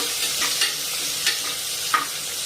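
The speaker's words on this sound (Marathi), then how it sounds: "कांदा शेंगदाणे छान दोन मिनिटं परतून घ्यायचंय तेलावर" Chopped onion, green chillies and a handful of peanuts sauté in oil, a close steady sizzle punctuated by three distinct stirring scrapes at regular intervals.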